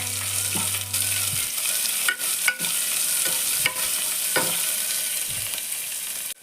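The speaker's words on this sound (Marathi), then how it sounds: "आता मी चिरलेला कांदा टाकून घेते. कांदा चांगला लालसर होईपर्यंत परतायचा." Chopped onion frying in oil for a vegetable pulao, a steady close sizzle with scraping stirs of a spoon against the pan and a few soft clinks, alone without talk.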